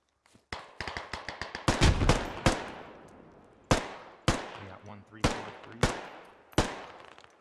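Gunfire in the military shooter Squad: a rapid burst of close rifle shots, then single loud cracks spaced about half a second apart, each echoing briefly, with no talking.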